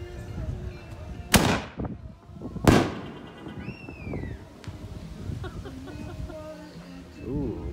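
Two loud sharp aerial bangs a second apart from 6-inch XXL canister shell fireworks, followed by crackling and fizzing, then scattered pops and distant rumble outdoors.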